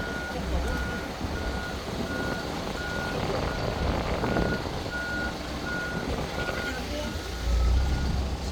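A truck reverses into a residential site during a house foundation inspection, its backup alarm beeping steadily in regular pulses over a low diesel engine rumble, fairly close and continuous.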